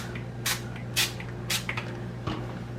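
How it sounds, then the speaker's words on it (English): Cooking spray misted onto plastic cling wrap covering a bread pan of English muffin dough, four short hissing bursts about half a second apart, close and clear over a low steady hum. "spray the wrap so that the dough doesn't stick to it"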